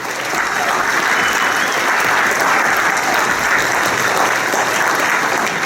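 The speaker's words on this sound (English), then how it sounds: "Folks, let's give a nice round of applause" A loud, continuous round of audience applause for firefighter honorees at a valor awards ceremony, thick crowd clapping that holds steady throughout without pause.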